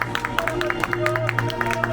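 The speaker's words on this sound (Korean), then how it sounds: "큰 박수 부탁드리겠습니다." An audience at an outdoor unveiling ceremony for a relocated poet's memorial stone claps steadily, a dense ongoing patter of many hands at moderate distance, with a voice and a sustained tone underneath.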